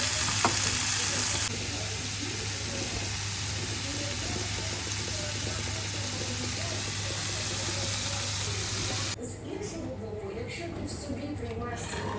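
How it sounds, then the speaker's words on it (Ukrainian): Shrimp sizzle and crackle steadily in hot butter close up, a dense frying hiss that drops in level near the end. "Смажую креветки на маслі"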